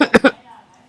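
A single person coughs two or three quick, harsh times close up, followed by a short pause and the start of another cough.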